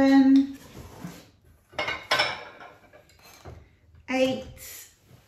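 Vintage glass plates, a kettle, a jug and other homeware knocked together while being unboxed, giving several sharp clinks and clatters in bursts between quieter handling noises.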